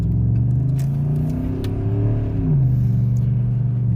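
A car fitted with a Magnaflow 14419 muffler revs loudly and close by, its deep exhaust rumble rising and falling through a couple of throttle blips over a steady low drone.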